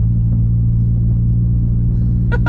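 A turbocharged Honda CRX with an Acura engine swap pulls hard in first gear, heard from inside as a steady, loud low engine drone that holds constant throughout, with a brief higher burst near the end.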